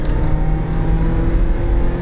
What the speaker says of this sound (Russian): То есть двигатель отрабатывает нормально.